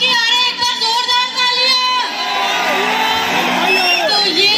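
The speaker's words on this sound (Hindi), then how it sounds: "तालियां" Audience at a stage show cheering and whooping, with loud, continuous crowd noise under voices and music, dense and close throughout.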